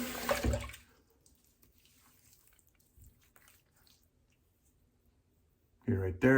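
A razor gets a quick rinse under a running tap, with a short splashing gush at the start, near silence with faint clicks in between, and another burst of running water at the end.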